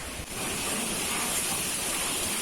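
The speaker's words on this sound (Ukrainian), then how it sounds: "Вітер такий, що страшний" Strong wind roaring into the microphone, a constant heavy rush of noise with no voices.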